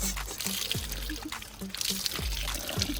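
Water being poured into a container in a drinks challenge setting, an uneven splashing pour with short trickles and gurgles, moderately close, over faint background noise.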